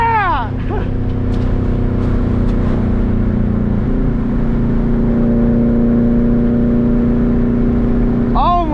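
A 350+ hp Subaru STI engine revs and accelerates loudly from inside the car, rising in pitch through the gears with a steady drone between, and brief voices over the noise.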